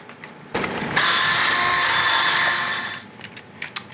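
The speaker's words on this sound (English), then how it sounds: "So I'm gonna wipe the excess off of the guitar anyway." A cloth wipes excess finish off a Stratocaster guitar body in a workshop: a loud, continuous rubbing swish of about two seconds follows a short scrape, then a few faint scattered ticks.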